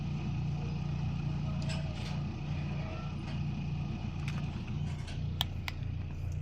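A Toyota Corolla AE101 engine idles steadily after a cold start, giving a continuous low rumble. A few faint clicks and higher pings sound over the hum partway through.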